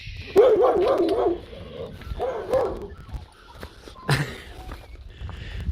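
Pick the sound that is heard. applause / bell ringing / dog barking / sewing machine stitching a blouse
dog barking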